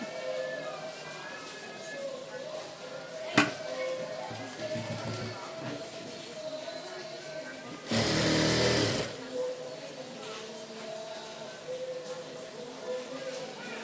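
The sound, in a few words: sewing machine stitching the bottom side of a baby blouse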